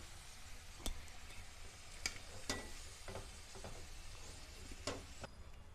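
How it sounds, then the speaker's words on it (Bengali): Colocasia pieces frying lightly in oil until reddish, a low steady sizzle broken by a few sharp ticks and clinks of a utensil against the pan, with no talking. "কচুগুলো ওরকমভাবে হালকা করে ভেজে নিতে হবে, লাল লাল করে"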